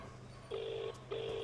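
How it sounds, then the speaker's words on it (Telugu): Two short, faint telephone keypad tones sound one after the other as someone dials a call in a Telugu court-drama film scene, over quiet background hum. "ఒక్క నిమిషం సార్, ఒక కాల్ చేసుకుంటాను."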